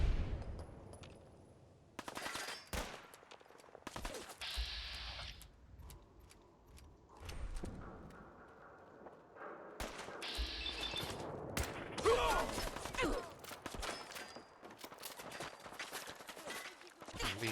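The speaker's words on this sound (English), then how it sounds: "I'm being shot at from two sides" Gunfire in the video game Fallout 4, bursts of rapid shots and single cracks coming in irregular clusters, fairly quiet overall, with a voice speaking in between.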